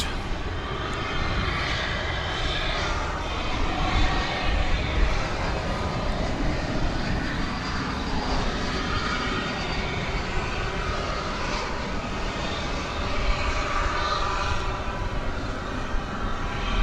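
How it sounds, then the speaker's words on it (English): An Airbus A321 lands at DFW airport at night, a broad, steady jet engine roar from a moderate distance that swells slightly and holds for the whole stretch, with no talking. "as we watch Flight 2115 from Miami land an Airbus A321"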